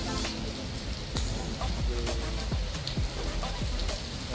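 Heavy rain pours down steadily in a dense hiss with scattered drips and splashes on surfaces, nearby, with no clear talking.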